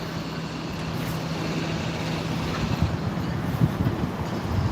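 Ambience at Glasgow Central train station: a loud, constant low rumble of engines and station machinery, with a steady hum and scattered clunks, no clear voices.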